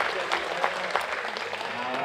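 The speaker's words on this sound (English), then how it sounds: "Give a nice round of applause here" Applause from a crowd at a junior livestock heifer show in Muskogee, a steady patter of clapping in a large hall, fairly near, lasting the whole moment with a voice faintly over it.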